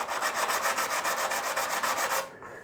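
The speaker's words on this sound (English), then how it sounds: "Just file that off." A file rasping across the wooden fretboard of a yellow Les Paul Junior guitar, about a dozen quick, even, close strokes in steady rhythm before stopping.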